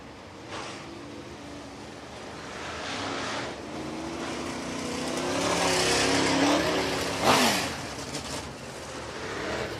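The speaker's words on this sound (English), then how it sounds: "So our 602 late model series is pulling out. The 602 Bandits coming out onto the Speedway." Late model race cars on the Screven Motor Speedway in Sylvania, Georgia roll out onto the track, engines droning and swelling as several cars pass, with a brief tire squeal near the end.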